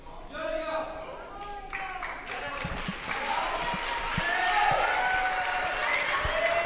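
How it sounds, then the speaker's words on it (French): A crowd in a gymnasium applauds after a French canne de combat championship bout, clapping swelling to a steady wash of applause after some thuds and taps, with a voice talking over it. "tout le monde dans le gymnase applaudit la sportivité des tireurs"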